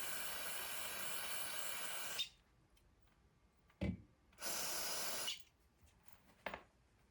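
Aerosol brake cleaner sprayed onto small M3x35 screws for a Kyosho Ultima RB7.5 RC car build: two long hissing bursts separated by quiet, with a few light clicks and handling noises between.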